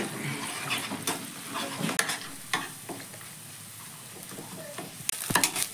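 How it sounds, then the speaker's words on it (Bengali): Beaten eggs fry in oil in a pan, scrambled into bhujia, with a quiet, steady sizzle broken by occasional stirring scrapes and clinks. "এবার ডিমটাকে সাইডে আমি ভুজিয়ার আকারে প্রথমে ভেজে নেব"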